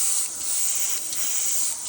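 An airbrush sprays paint onto small detail parts of a model gun, giving a steady airy hiss close to the microphone with slight pulses in strength.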